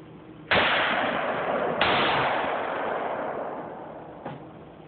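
Two loud rifle shots from a .458 SOCOM rifle crack out about a second apart outdoors, each followed by a long rolling echo, then a softer, distant report near the end.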